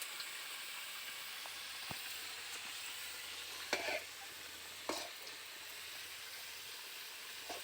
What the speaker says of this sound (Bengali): এখন মাংসের আলুগুলোকে ভাজা হচ্ছে সুন্দর করে